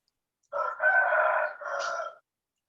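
A rooster gives a single crow in three clear segments lasting under two seconds, fairly close and alone against silence.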